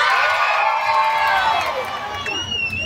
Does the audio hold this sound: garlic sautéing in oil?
no